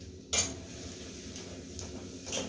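A spoon scrapes and clinks against a pan while masala for matar paneer is stirred, with a few sharp metallic taps over a faint background sizzle.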